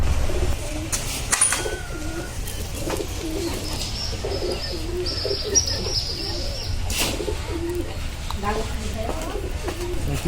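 Pigeons at a village pigeon market coo repeatedly in low, rolling calls, close by, with chirps and a faint flutter mixed in over a steady background.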